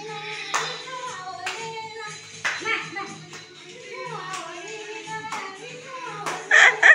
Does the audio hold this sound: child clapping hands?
yes